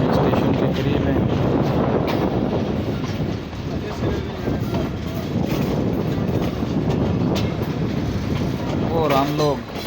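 A train pulling into Havelian railway station in Pakistan gives a loud, continuous rumble with rhythmic clatter of wheels on rails, and wind buffets the microphone throughout.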